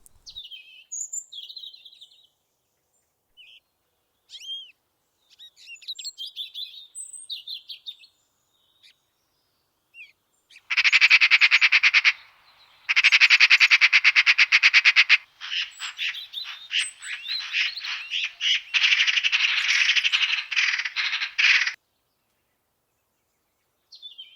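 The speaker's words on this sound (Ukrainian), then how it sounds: "А ви любите слухати спів птахів? Давайте послухаємо, як вони співають." Songbirds chirp and trill, starting with scattered short calls and building into long, dense bursts of rapid song in the second half, fairly loud and close, with no talking.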